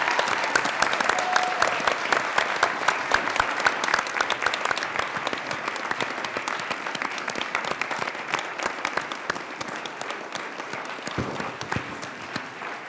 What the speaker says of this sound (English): gave her a little extra round of applause and encouragement for standing up here